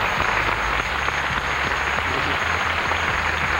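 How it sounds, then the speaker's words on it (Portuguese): Studio audience in a Brazilian TV reality show applauding for José Simão, a constant, loud, dense patter of many hands clapping that holds steady throughout with a faint steady hum beneath. "recebe uma salva de palmas do auditório"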